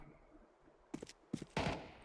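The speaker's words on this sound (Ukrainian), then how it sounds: "Він ще й стріляє біля мене." Several sharp gunshot bursts from nearby gunfire in Counter-Strike 2 crack out in quick succession near the end, loud and close, after a quiet hum of background noise.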